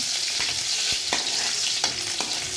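Onion and garlic fry in a pan with a steady, close sizzle and a few soft stirring scrapes, and no voices.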